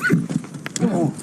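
A horse whinnies and snorts close by, its hooves clopping beneath the sound, all within a short burst set in an Old West farmyard near a hog pen.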